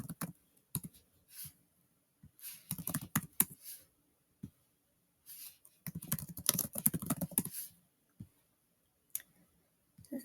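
Bursts of typing on a computer keyboard as an event type is entered into a Notion calendar, quick irregular clicks in clusters separated by pauses, close and fairly quiet, with no talking.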